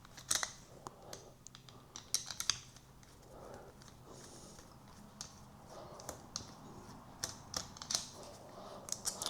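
Screwdriver work taking the two screws off the vibration pump of a Fracino Cherub espresso machine, heard as sharp, irregular metallic clicks and scrapes at close range with faint background hiss and no talk.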